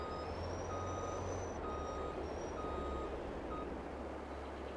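In Farming Simulator 22, a truck backs up, its reversing alarm sounding a series of evenly spaced high beeps over a low, steady engine rumble, with no talking.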